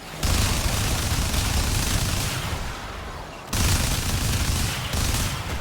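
Rapid sustained gunfire from a Warframe weapon, loud and close, dense continuous bursts with a brief lull near the middle before firing resumes hard.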